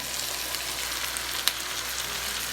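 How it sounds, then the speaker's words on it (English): Rice and black beans go into a pan of vegetables already cooking, giving a quiet, even sizzle with one brief clink partway through and no talk. "we're going to go ahead and drop our rice into those veggies that are cooking away"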